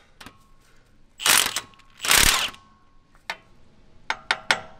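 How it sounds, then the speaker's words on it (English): A ratchet removes oil pan bolts on a first-generation Dodge Ram, with two loud bursts of rapid clicking up close, then scattered sharp single clicks and ticks. "So let's go ahead and remove these two bolts."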